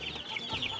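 Heritage chickens clucking on a farm, a short burst of soft, moderately distant clucking over steady background noise.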